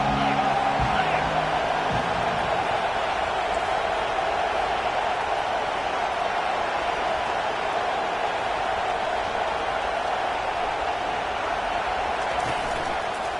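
Stadium crowd noise in a college football video game with Auburn playing at Oregon, a steady, distant-sounding roar of cheering held at an even level throughout, with brief faint sounds near the start.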